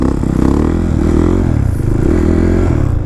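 A motorcycle engine running close by at a stunt practice spot, loud and steady with a rough, throbbing idle and slight revving.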